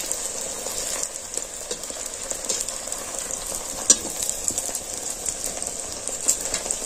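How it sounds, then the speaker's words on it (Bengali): Pea kachoris made with rice flour dough are deep-frying in hot oil while oil is ladled over them, giving a constant bright crackling sizzle with occasional louder pops and no speech. "এইভাবে তেলটা ঝিকতে ঝিকতে দিয়ে দিচ্ছি, দেখুন একদম বলের মতো ফুলে গেছে"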